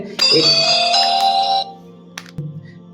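A Walton Axion X300 phone powers on with a loud, bright, sustained startup chime that lasts over a second and then cuts off, followed by a few faint clicks.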